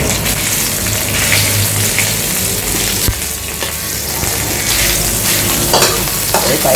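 Curry paste for a bitter sadao (neem) and catfish curry frying and being stirred in a pan, a steady close sizzle with scraping stir strokes throughout, no talking.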